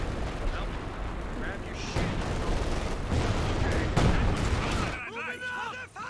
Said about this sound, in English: some artillery from the Major coming in out the back